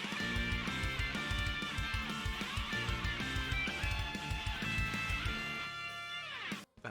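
Energetic anime-style opening intro with fast drums, chugging rhythm guitar and a bright lead guitar riff, played loud and dense before cutting off abruptly at the end.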